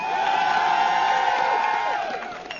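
A crowd at a League of Legends esports final cheers and whoops loudly, a dense sustained roar that fades slightly near the end.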